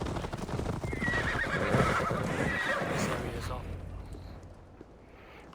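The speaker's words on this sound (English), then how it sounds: "Y ahora me paso otros 10 andando a caballo y escuchando la historia de Sigurd" Horse riding in the video game Assassin's Creed Valhalla: a steady, loud rush of galloping hooves and gear with a whinny early on, fading toward the end, with talk mixed in.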